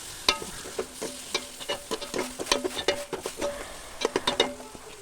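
Onions being sautéed with crushed ginger, garlic and green chilli for biryani give a steady frying sizzle, with repeated close scrapes and clinks of a stirring spoon against the pan, and no voices.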